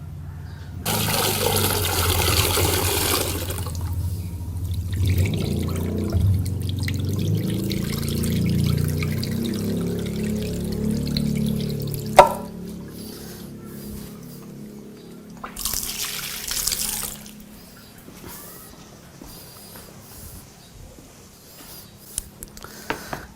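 Temulawak (Javanese ginger) rhizomes are washed under running water, with a strong gushing stream at first that drops to a softer trickle, then a later brief surge of water, clinks and a quiet stretch between.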